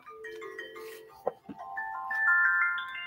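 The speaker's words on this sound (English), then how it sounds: "Okay, phone." A phone ringtone playing a short melodic sequence of bright electronic tones, rising toward the end, close and clear with a couple of brief handling knocks in the middle.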